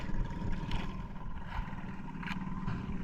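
Motorboats pass at a distance while people fish from a boat, giving a low, steady engine drone with faint swells, heard alone without talk.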